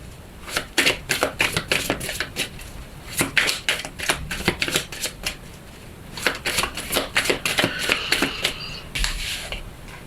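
Lenormand oracle cards being shuffled and cut, with rapid riffling flicks in two clustered runs separated by a brief pause, close and crisp, without talking.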